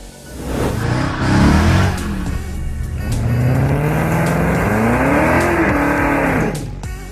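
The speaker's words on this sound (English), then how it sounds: "it ain't a Mustang if it doesn't have that V8 growl and rumble" A Ford Mustang V8 fitted with an aftermarket Borla exhaust revs loudly and close, its deep rumble climbing and falling in pitch through several throttle sweeps across the whole stretch, with no talking.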